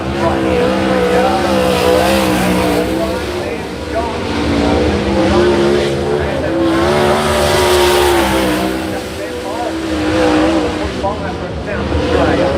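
Sprint cars roar through a qualifying heat race, engines droning and rising and falling in waves as the pack circles, loud and continuous with a voice speaking over it.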